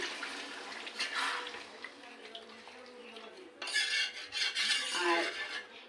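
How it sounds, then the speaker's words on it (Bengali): Water poured into a pot of simmering mutton curry, a soft rushing splash with metal clinks, swelling louder near the end. "দেখুন এবার আমি জল দিয়ে দিচ্ছি"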